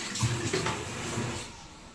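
Water sloshing and splashing as tiny newborn puppies are bathed in a tub on a hot day, a close, continuous watery wash with small splashy peaks early on and no talking.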